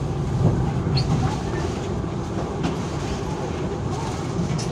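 Indonesian Jayakarta passenger train pulling into Pasar Senen terminal station, a steady low rumble of rolling wagons with faint track clatter and brief high squeals, continuous and moderately loud with no talking.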